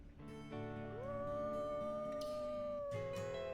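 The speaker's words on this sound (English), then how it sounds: "Probably don't need a howl because you're kind of like alerting everyone to our position." A wolf in the video game WolfQuest lets out a long, drawn-out howl that rises and then holds steady before fading, with softer game sounds and a second voice underneath.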